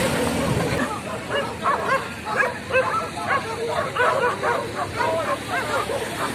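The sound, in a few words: dog barking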